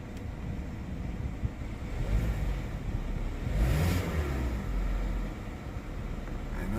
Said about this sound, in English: That's a good sign, and it's idling good.